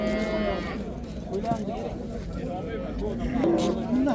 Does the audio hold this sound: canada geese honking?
no